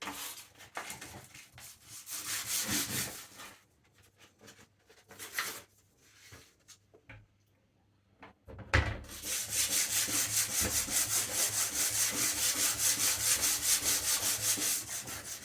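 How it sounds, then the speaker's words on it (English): Sandpaper rubs back and forth on a wooden interior door in bursts, pausing briefly in the middle, then resuming as steady, close, continuous scraping. "we'll get on with sanding"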